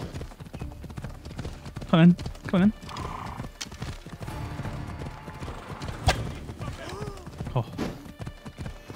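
A horse in Assassin's Creed Odyssey clip-clops along with steady hooves and lets out whinnies, while a player talks over the gameplay sounds.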